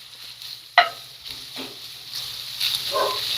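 Pork fries outdoors in a pan for breakfast burritos, giving a soft steady sizzle with scraping stirs and a sharp clink of the utensil against the pan, close and fairly faint with no talk.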